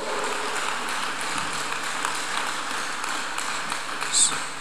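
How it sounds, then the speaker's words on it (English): A church congregation claps together during a Sunday worship service, a steady, dense patter of applause at moderate level with a brief bright ping near the end. "Can we clap unto God again?"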